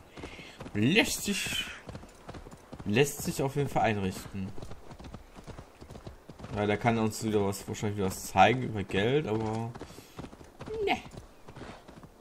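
Rhythmic clip-clop of a horse's hooves while riding in Assassin's Creed Valhalla, quiet and steady beneath someone talking over the gameplay.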